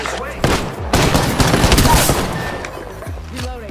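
Several sharp gunshots and bursts of fire in Apex Legends, close and loud, with clattering impacts and a voice talking over the action.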